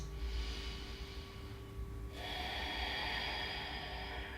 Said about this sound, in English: Let's take some deep inhales and exhales in our first gentle back bend.